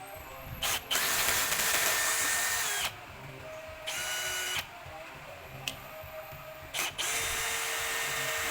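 Bursts of a power drill driver backing screws out of the housing of an Ingco wall chaser under repair, several whirring runs of one to two seconds with short pauses between, close up and alone.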